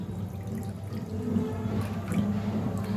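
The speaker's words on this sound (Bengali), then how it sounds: "প্রথমে কি করলাম দুধটা ঢেলে দিলাম" Milk pouring into a pan for fruit custard, a continuous liquid splash and gurgle that runs steadily for a few seconds at close range, no voices.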